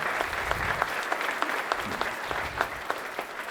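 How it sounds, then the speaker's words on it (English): An audience at a township address claps together in dense, steady applause, a close crowd sound with distinct individual claps popping through the wash. "we need to give them a round of applause just for that video and everything"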